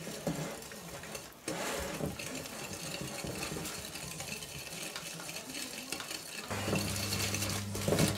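An egg being mixed into batter by hand in a bowl: steady scraping and stirring of the utensil against the bowl throughout, fairly quiet and close, with a low hum joining near the end.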